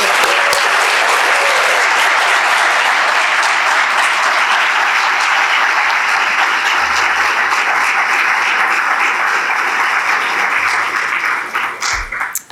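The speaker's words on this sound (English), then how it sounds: "Let's give a final round of applause for our graduates." An audience at a leadership academy graduation celebration gives the graduates a long, loud, dense round of applause that holds steady for about twelve seconds before fading out at the end.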